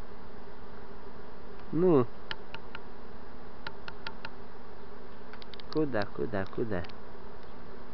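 Honey bees from a swarm buzz in short whining bursts near the microphone while the swarm's queen is being caught and caged, with a few brief spoken words over the quiet background.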